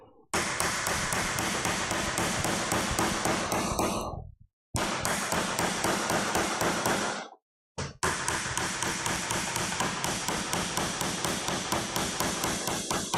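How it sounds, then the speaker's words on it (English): Pair of scissors used as a makeshift hammer in a salon, pounding in a fast, steady run of sharp, loud taps with two brief pauses between bursts. "Mashing up all your scissors. That's fine. That's the price of not having a hammer."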